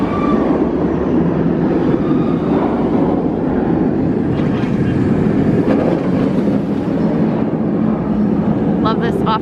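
A steady loud rolling roar of a roller coaster train rushing past at Busch Gardens Tampa, continuous and close, with faint voices beneath it.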